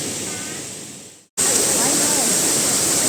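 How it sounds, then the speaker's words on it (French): The second cascade of the waterfall at Erawan park, Thailand, roars as loud, steady broadband rushing water, close and continuous, with a brief cut partway through. "Donc je suis à la deuxième cascade."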